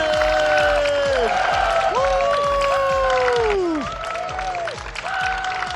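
Scattered clapping and cheering under overlapping voices and whoops at the start of a podcast episode, loud at first and dipping slightly toward the end.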